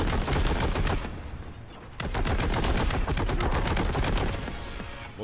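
Enemy gunfire in a video game rings out in dense, rapid bursts, a sustained loud volley that drops briefly near the two-second mark before resuming with the same relentless rattle.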